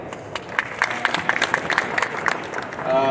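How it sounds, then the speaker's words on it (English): Scattered, fairly light clapping from a crowd at an outdoor startup pitch showcase, individual claps standing out, before a voice begins speaking at the very end. "A round of applause once again, everyone."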